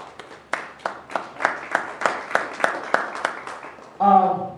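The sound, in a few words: congregation clapping hands in praise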